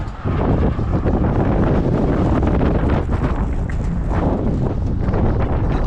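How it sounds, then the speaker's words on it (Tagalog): Strong wind buffets the microphone outdoors in Canada in a continuous loud roar, gusting unevenly throughout with no other clear sounds. "Hangin."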